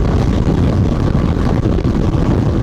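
A Bajaj Dominar 400 motorcycle accelerating downhill at speed, a loud, dense engine roar mixed with heavy wind rush, steady and continuous throughout, with no talk.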